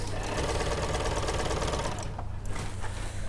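A sewing machine runs fast and steady, stitching chiffon with a dense continuous whirr that stops abruptly near the end, followed by a few light clicks.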